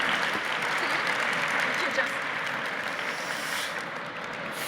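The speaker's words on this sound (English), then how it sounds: "Can we get a round of applause, please, for Isabelle?" Audience at a business conference session gives sustained applause, a dense, even wash of clapping that holds steady throughout and eases slightly toward the end, likely with some talk mixed in underneath.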